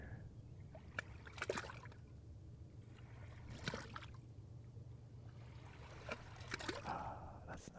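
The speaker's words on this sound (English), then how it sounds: "Get some quality splashing noises here." Small splashes and trickles of shallow seawater in a tide pool at low tide around Seattle, a few soft bursts over a steady low rumble, close and fairly quiet.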